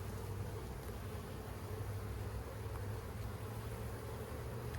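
Honeybees hum steadily around an open hive during a colony inspection seven weeks after the old queen was replaced, a continuous dense buzz that stays close and even throughout.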